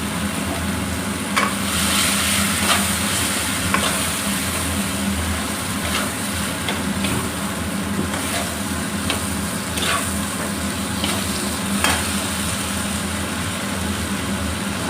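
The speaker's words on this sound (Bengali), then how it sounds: "এবার এই তেলের মধ্যেই আমি পেঁয়াজ দিয়ে দেবো ভাজা।" Onions sizzle steadily in hot oil in a pan, a continuous crackling hiss with occasional stirring scrapes and clinks. No voices are heard.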